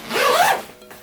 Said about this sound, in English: You can zip it up.